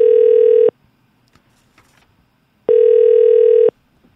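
Telephone tone from an outgoing call being connected: two steady, loud single-pitch beeps about two seconds apart, each lasting roughly a second, with near silence between them.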